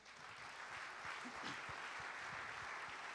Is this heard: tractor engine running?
no